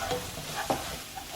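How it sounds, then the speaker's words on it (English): Spices, coriander and cumin powder, tomato puree and onions being stirred in a hot pan, a soft scraping and sizzle with a couple of sharper utensil knocks, close and without talk. "And then we're just going to mix all this together."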